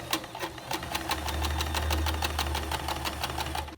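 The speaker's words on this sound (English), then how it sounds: "now I'm gonna sew the skirt from top to down" A sewing machine stitches a skirt seam from top to bottom, its needle chattering in a fast, even rhythm with a low motor hum underneath, close and steady.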